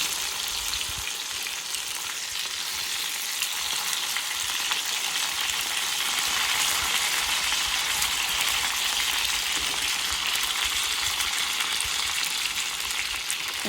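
A porterhouse steak fries in a pan, its fat edges crisping, with a loud, steady, dense sizzle and crackle that runs unbroken and close throughout.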